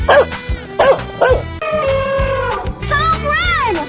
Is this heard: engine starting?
no